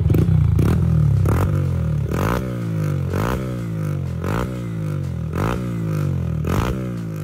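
Yamaha XSR900 motorcycle fitted with a full Yoshimura exhaust system, heard up close with repeated rising revs: a deep engine note climbing in pitch, each rev punctuated by a sharp blip, repeating steadily.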